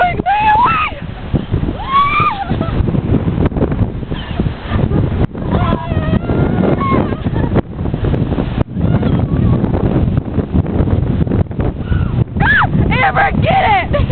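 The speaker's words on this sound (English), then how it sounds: "The wind is dying down." Strong wind buffets the microphone outdoors in a constant low rumble, while people talk and shout over it throughout.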